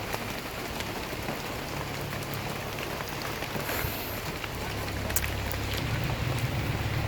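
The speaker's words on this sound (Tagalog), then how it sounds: "Ulan, matulo pala dito, tulo." Steady rain pattering on a surface with drips leaking through a roof, a soft, even hiss close by with occasional sharper drops, no talking over it.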